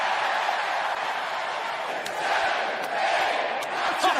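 A wrestling arena crowd roars and cheers at a live pro wrestling event, a massive, sustained wall of shouting voices that swells and surges with scattered sharper yells throughout.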